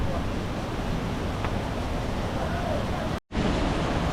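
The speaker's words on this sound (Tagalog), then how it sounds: "Dandahan lang malakas ng current ng tubig." Strong river current rushing during a river crossing in Miaoli, Taiwan, a loud continuous broadband roar of flowing water mixed with wind buffeting the microphone, briefly cutting out near the end.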